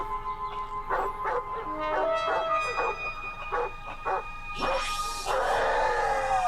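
A dog barks in a scene from the Doctor Who serial "The Mark of the Rani", a string of short yaps and whimpers over music and background drone, ending in a louder burst of noise.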